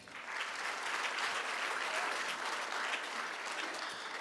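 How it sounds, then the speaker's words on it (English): Sustained applause from an audience at a 2024 high school senior awards ceremony, honoring the top students in their subject areas; dense, even clapping fills the whole stretch without pause. "Ladies and gentlemen, a collective round of applause for the top students in their subject areas."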